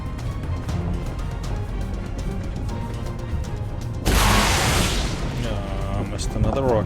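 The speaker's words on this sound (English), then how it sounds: "We shot a lot of rockets." A rocket strikes during a fight against a Lava Golem in ARK Ragnarok, a sudden loud blast cutting through steady game noise and a speaking voice, then trailing off into rumble.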